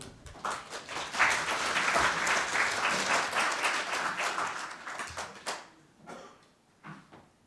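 An audience at a policy forum on rehabilitation for people with spinal cord injuries claps, a sustained round that fades after about five seconds into a few scattered claps and small room noises.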